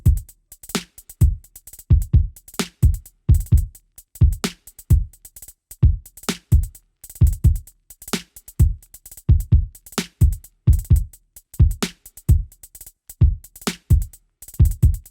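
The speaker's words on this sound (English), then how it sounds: "the drums sound like this" A full Sango-style drum loop repeats steadily, punchy booming kicks and crisp snappy hits in a bouncy, swung pattern, loud and close with no other instruments or voices.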